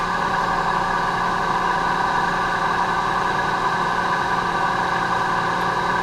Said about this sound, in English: Fire the mill up.